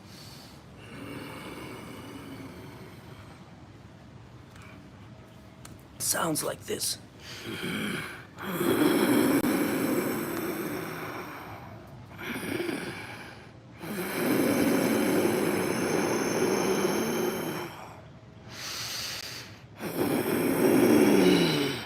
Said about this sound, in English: reduce the volume of the breathing, not the total volume, but the aperture in the throat of the breath as it enters and as it exits